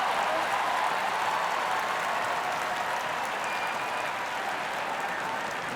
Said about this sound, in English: they're cheering her on, the beautiful Afghan